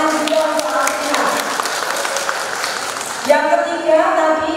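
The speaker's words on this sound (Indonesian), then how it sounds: "Tepuk tangan juga untuk Alfira." Audience applause at a university competency showcase event, steady clapping filling the whole stretch, with brief voices or cheers rising near the end.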